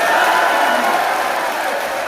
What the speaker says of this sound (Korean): 서정욱 변호사님한테 손박수 한번 해주십시오